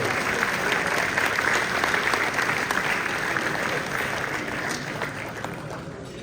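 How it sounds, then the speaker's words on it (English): Audience at a hall of fame dinner for the Grand National Roadster Show gives sustained, loud applause filling the banquet hall, steady and dense throughout. "Big round of applause for them, please."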